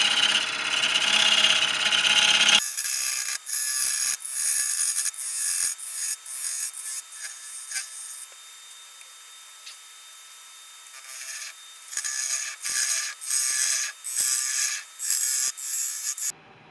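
Wood-turning tool trimming the inside of a cracked black cherry wood bowl on a lathe, a scraping, rasping cut in repeated bursts with pauses between, close and fairly loud with no talk.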